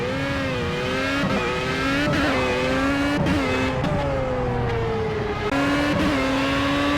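A race car in Project CARS at Donington Park drops from seventh gear down to third into a corner, the engine whine stepping sharply up and down in pitch through several quick, loud downshifts.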